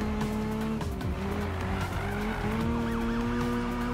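A video game car drifts through a turn, its tires squealing in long wavering tones over a loud, constant engine roar, close and unbroken, without speech.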